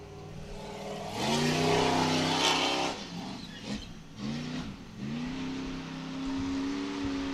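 An Ultra 4 off-road race car pulls out for its final lap at a Tennessee race. Its engine revs up hard, dips, and then climbs again in rising gear-change sweeps, close and loud.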